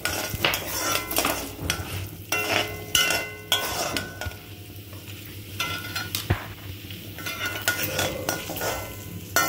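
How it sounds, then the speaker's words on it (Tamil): Sesame oil spluttering in a pan while tempering for coriander thokku, an uneven crackle and sizzle mixed with metal utensil clinks and stirring knocks against the pan, fairly close and with no voice. "நல்லெண்ணெய் போட்டா நல்லா இந்த மாதிரி பொரிஞ்சு வரும்"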